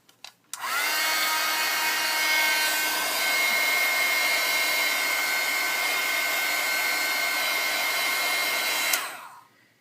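A hair dryer blows steadily and loudly for about eight seconds, drying gold paint on an ATC card, then switches off.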